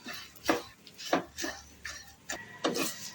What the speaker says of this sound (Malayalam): ഇനി ഒരു ലോ ഫ്ലെയിമിൽ വെച്ച് കരിഞ്ഞു പോകാതെ വറുത്തെടുക്കാം